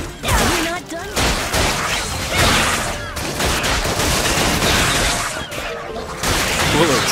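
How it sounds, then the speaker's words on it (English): Heavy video game gunfire, loud overlapping volleys with crashes and shattering impacts running nearly nonstop, mixed with some speech. "Bullets flying everywhere."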